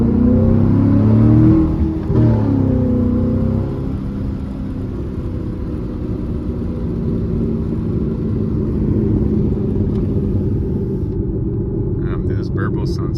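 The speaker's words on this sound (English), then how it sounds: "This burble sounds so good." Loud C7 Chevrolet Corvette exhaust burbles and rumbles steadily while driving at night, with a rise in engine pitch early on and a low continuous drone throughout; someone speaks over it.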